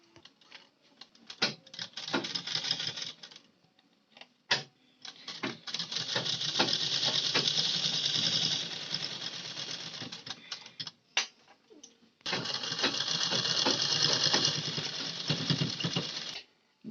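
A sewing machine stitches a blouse button placket in several bursts of rapid, even mechanical chatter, close and fairly loud, separated by short pauses with clicks and fabric handling.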